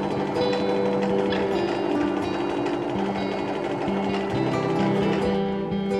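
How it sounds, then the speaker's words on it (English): A sewing machine runs continuously while hemming trousers, a steady close whirring hum with slight shifts in pitch as the stitching goes on. "start sewing"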